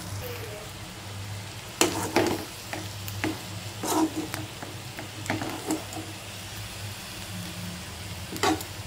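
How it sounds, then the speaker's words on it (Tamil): Samosa masala filling sautéing in a pan, a soft steady sizzle under intermittent scraping and clacking of a spatula stirring against the pan, close and fairly loud, with no speech. "வாங்க வதக்கி எடுத்துக்கலாம்."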